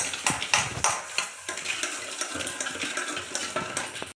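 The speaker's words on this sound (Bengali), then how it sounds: "কত বাসন হয়ে গেছে তো চলো বন্ধু আমি এগুলো ধুয়ে নিই" Dishes are washed by hand in a sink: close clinks and clatters of utensils and pots, with scrubbing and a light wash of water, in uneven bursts and without talk.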